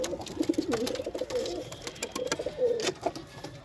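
Pigeons coo in soft, rolling bursts close by, several calls repeating across the stretch, with faint clicks and shuffling between them.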